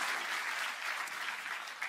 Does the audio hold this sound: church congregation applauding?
yes